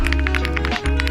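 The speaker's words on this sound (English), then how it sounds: "This is the sound of the metal keycaps." Typing on a keyboard fitted with metal keycaps: rapid, close clicks and taps in a steady rhythm over a constant low hum.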